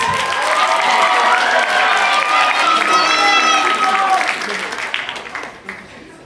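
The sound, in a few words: crowd applause and cheering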